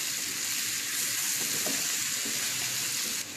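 Raw mango chutney with sugar, red chili powder and coriander powder sizzles steadily in a pan as it is stirred, a constant bright hiss with a few faint utensil taps.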